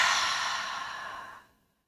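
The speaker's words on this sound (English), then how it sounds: "take a clearing breath" A single long exhaled clearing breath during a yoga practice, close and breathy, fading out smoothly into silence.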